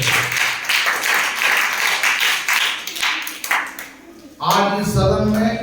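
Students at a school morning assembly break into loud, dense group clapping that runs for about four seconds, then fades as a voice and a tonal sound take over.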